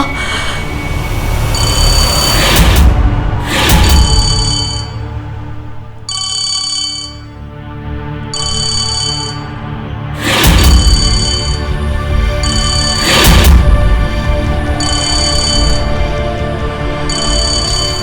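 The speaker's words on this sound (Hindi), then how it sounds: "अब ये बैंक वाले भी ना कितनी बार फोन कर रहे हैं" A phone ringtone plays loudly and alone in repeated electronic bursts, with bright tonal beeps recurring in a steady pattern and a few sharp louder accents over about eighteen seconds.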